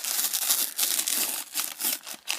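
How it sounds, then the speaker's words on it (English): Wrapping paper being torn and crumpled during an unboxing, close and crisp, in bursts of ripping and crinkling with brief pauses between. "I'm like tearing the paper."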